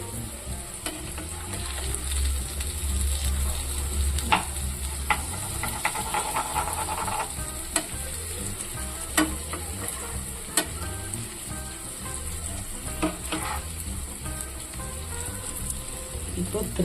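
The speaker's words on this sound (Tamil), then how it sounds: "நம்ம மீன் வந்து 2 பக்கம் திருப்பி போட்டு நல்லா ஃப்ரை பண்ணிக்கலாம்" Rava-coated fish fries in a pan with a continuous bubbling sizzle and hiss, broken by sharp spatula taps and scrapes as the pieces are turned. A voice talks quietly now and then.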